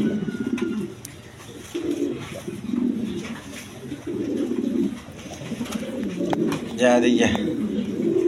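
Pigeons cooing repeatedly at a wholesale pigeon seller's, steady rhythmic low coos in close, overlapping bursts, with someone speaking over them.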